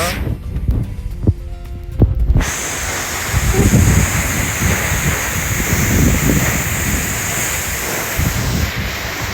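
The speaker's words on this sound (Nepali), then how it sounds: "पछाडि पुरै पानीले हानिरहेको छ।" A waterfall at Octopus Waterfall in Manang crashes down in a loud, steady roar of rushing water that fills the whole clip, with a short stretch of other sound at the very start before the roar takes over.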